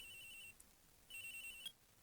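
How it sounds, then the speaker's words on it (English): A cell phone ringtone from the Phoenix Wright: Ace Attorney video game plays twice, each time a bright steady electronic tone with a short gap between, clear and alone with no talking. "And we hear the cell phone ringing."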